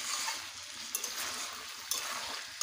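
Peas hit hot spiced oil in a pan and fry with a continuous bright sizzle, broken by a couple of brief stirring knocks.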